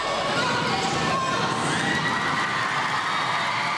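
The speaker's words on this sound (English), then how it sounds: "the students around me who were cheering for me" School students in a crowded gym loudly cheer and shout without a break as a math teacher wins a national educator award, a dense and sustained roar of many young voices.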